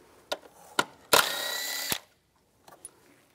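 A power tool, likely a drill with a 10 mm socket, removing bolts on a 2010-2016 Cadillac SRX during spark plug replacement: one short whirring burst under a second, framed by a few clicks and knocks in a quiet space.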